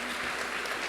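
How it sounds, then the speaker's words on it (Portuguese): Applause from a church congregation during a family service, a short burst of steady clapping filling the room without pause. "Pode aplaudir."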